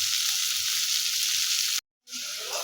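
Tengra fish frying in oil, a loud, dense, close sizzle that runs continuously, cuts out abruptly for a moment, then resumes just as strongly.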